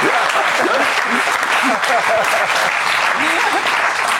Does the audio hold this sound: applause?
yes